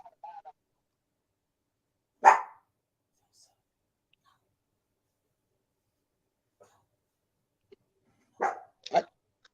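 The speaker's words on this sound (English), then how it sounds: "Can you hear my dogs?" Dogs barking in a quiet indoor setting, a sharp bark near the start and a quick pair of barks near the end, separated by long silence.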